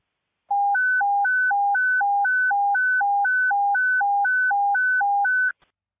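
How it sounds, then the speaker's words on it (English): Fire department emergency evacuation tone sounded over radio during a firefighter fatality incident at a house fire: a steady alternating two-pitch warble, about a dozen high-low cycles, loud and clean with no talk, lasting five seconds. "Commander Frederick, sound the evacuation tone."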